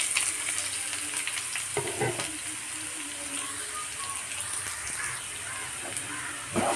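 Sliced onion frying in hot oil with cardamom and pepper for semiya biryani, a continuous bright sizzle with occasional stirring clinks, close and steady, no voices.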